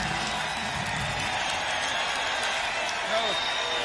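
An excited stadium crowd roars and applauds at an AAF football game, a broad, steady wash of distant cheering heard under someone talking.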